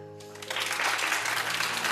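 Audience applause at a talk-show taping rises after a quiet start and holds as a steady, full wash of clapping hands for the rest of the moment, with no talk over it.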